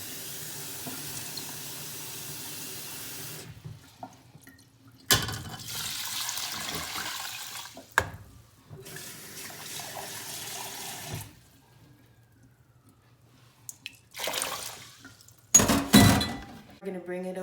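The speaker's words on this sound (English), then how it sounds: "And add 5 cups of water." Tap water runs into a pot in a home kitchen for soaking lentils and rice, several bursts of splashing flow separated by pauses and a few thunks of the pot being handled.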